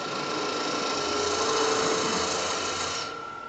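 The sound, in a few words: wood lathe turning with spindle gouge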